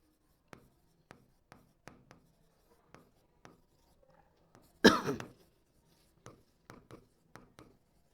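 A pen scratches math onto paper in steady short strokes, close and quiet, with one louder cough or throat-clear partway through.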